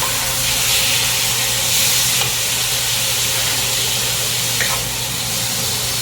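Vegetables brown in a hot pan, a loud, steady sizzle and hiss with a faint low hum underneath and a few small crackles.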